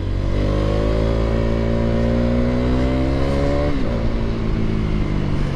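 A Mahindra Scorpio SUV speeds past a motorbike on the road, its loud, steady engine drone climbing in pitch before dipping sharply as it goes by, with constant wind rush throughout.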